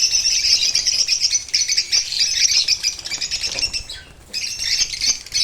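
Dense chorus of bird calls and chirps from a nesting colony, close and continuous, with birds flying around nearby; the twittering holds steady, briefly dips near the end, then resumes.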